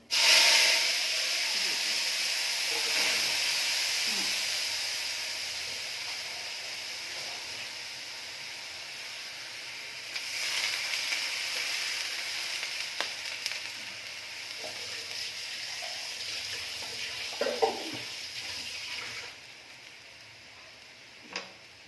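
Ground ginger, garlic and onion paste with whole cumin hitting hot oil, a loud hissing sizzle that bursts at first, settles into a steady spitting fry, then flares again midway with occasional stirring clatter.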